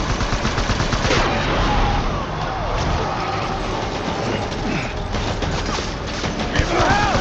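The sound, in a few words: gunfire in the video game Death Stranding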